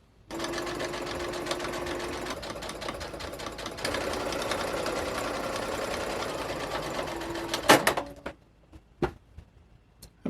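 A sewing machine top stitches canvas pieces of a duster jacket, running steadily and fairly loud for several seconds before stopping, followed by a few sharp clicks and knocks.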